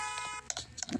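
Short electronic beeps from the Brookhaven video game, a few brief high chirps scattered over about a second, faint beside low background noise.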